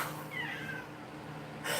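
A house cat indoors lets out a single quiet, drawn-out meow, fairly faint against a low background hum.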